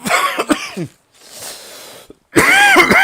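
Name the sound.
cough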